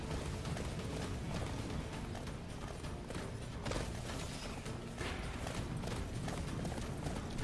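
Rapid, continuous hoofbeats of a galloping horse in an Attack on Titan video game, over a dense, loud mechanical background, rhythmic and unbroken throughout.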